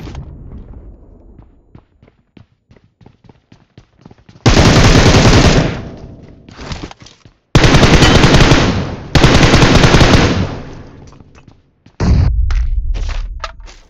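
Mobile shooter game gunfire: loud sustained automatic bursts, three long volleys and a closing burst, separated by quieter stretches of clicks and light single taps, no talking.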